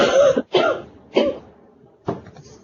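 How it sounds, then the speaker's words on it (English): Three separate coughs in a classroom, loud and close, spaced about half a second apart, followed after a pause by a fourth, throatier cough. "No coughing in class."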